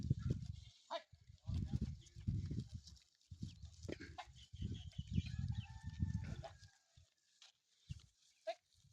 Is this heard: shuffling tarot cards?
no